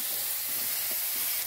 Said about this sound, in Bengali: এই ঝোলের মশলা কষানো হচ্ছে